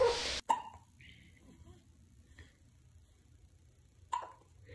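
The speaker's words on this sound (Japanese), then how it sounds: "しゃっくりしてるね。" A baby hiccups at home, with a few short, sharp bursts spaced out across a quiet room: one near the start and another toward the end. Faint low background murmur fills the gaps between them.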